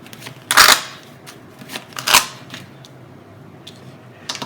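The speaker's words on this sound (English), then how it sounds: "I'm shuffling" Tarot cards are shuffled by hand in a quiet room, giving two sharp riffling bursts about a second and a half apart, followed by softer slides and a final short flutter.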